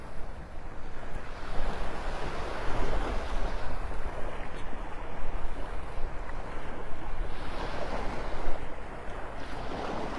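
Surf washes steadily onto Vanderbilt Beach in North Naples, Florida, during a beach walk, a continuous roar of breaking waves mixed with gusting wind buffeting the microphone, with no voices.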